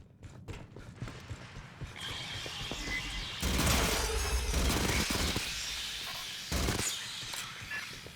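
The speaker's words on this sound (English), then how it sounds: "I heard gunfire." Gunfire in the sci-fi shooter game Aliens: Fireteam Elite: rapid bursts of automatic fire and clattering impacts swell and fade, with two louder volleys standing out.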